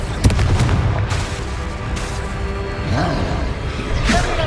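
Confringo blasting spells exploding in combat in Hogwarts Legacy, a series of loud booming blasts with sharp crackling bursts, one near the start and more around the middle and end, over a rumbling backdrop.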